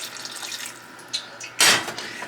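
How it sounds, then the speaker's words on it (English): Water pours into a pot of brown stew chicken, with a few faint drips and then a brief loud splashing gush near the end. "right now I'm going to add a little bit of water to it"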